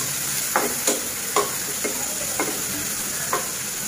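Chicken lightly frying in a pan, a constant soft sizzle with about six sharp ticks or taps spaced through it, close and even.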